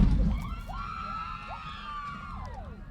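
Fans cheer for the Eagles in the stands at a boys soccer game, a thin crowd of shouts and whoops rising and falling close to the microphone, with rowdy young voices carrying over the field noise.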